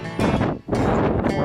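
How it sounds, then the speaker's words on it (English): Strong wind in Oklahoma buffets the microphone in loud, roaring gusts, with a brief lull between them. "It's windy as heck."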